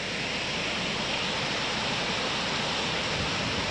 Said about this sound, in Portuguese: Devido a essa grande queda d'água